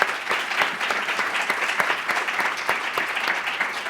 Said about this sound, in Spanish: fuerte aplauso para Ángel León, para Víctor Palacios.